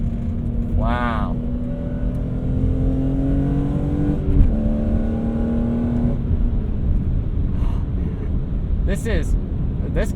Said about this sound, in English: The intake sound on this is glorious